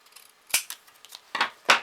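Scissors snip through paper for a handmade thank-you card, with a few faint small cuts followed by three sharp, close snips spaced apart.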